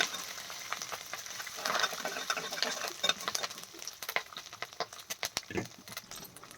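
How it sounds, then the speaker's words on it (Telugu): Lentils and curry leaves fry in a pan for a mango pulihora tempering, giving a close, crackling sizzle with spatula scrapes and sharper pops that grow busier toward the end. "పప్పులన్నీ ఫ్రై అయ్యాక దీంట్లోకి 4 రెమ్మల కరివేపాకుని కూడా వేసుకొని ఫ్రై చేసుకుంటున్నాను."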